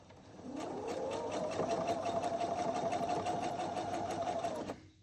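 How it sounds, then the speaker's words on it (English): Sewing machine stitching a ruffle onto a pillow, running in one steady, loud continuous burst with a rapid needle rhythm, starting and stopping cleanly, no talk. "Just sewing the ruffle on."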